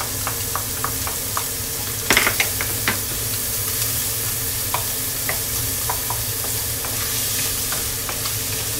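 Garlic fries in a pan with a continuous soft hiss, close by, and a scattering of small pops and clicks from stirring, with one brief louder clatter early on.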